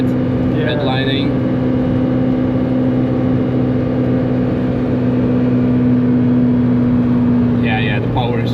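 A Daihatsu Copen engine held near redline in third gear while climbing steeply uphill on the Nürburgring, a loud steady droning whine inside the cabin, with brief short voice sounds near the start and end.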